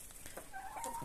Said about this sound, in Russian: Вот такие курочки.